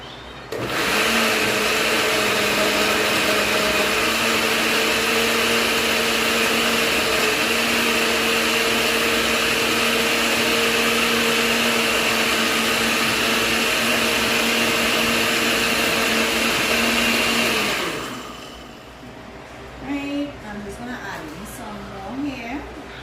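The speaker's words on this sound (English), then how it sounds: "I'm going to pour in some water into the blender to make it much easier for the blender to just blend everything together" A kitchen blender whirs loudly and steadily for about seventeen seconds while blending green seasoning ingredients with water, then cuts off, leaving quieter clatter afterward.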